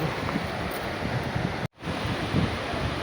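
Sea waves at the Chirala harbour, where a river channel meets the sea against a line of boulders, make a steady, loud broadband wash with wind buffeting the microphone. The sound cuts out briefly partway through.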